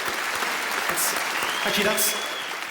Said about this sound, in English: Let's have a round of applause for the ladies.